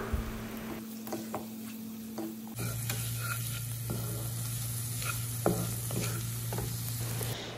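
Onions sauté in a pan with chopped green chillies and chilli powder, making a soft, steady sizzle broken by gentle spatula scrapes, heard close but fairly quiet over a constant low background hum.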